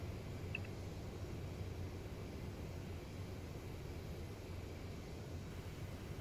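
An AJS 37 Viggen jet on landing approach in the DCS flight simulator gives a steady, fairly quiet engine drone that holds through the whole stretch, with no talking over it.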